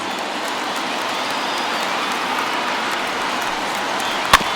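Stadium crowd of over 39,000 roars steadily in MLB The Show 21 during an Orioles versus Athletics game, a dense, even wash of cheering throughout with one sharp bright burst near the end.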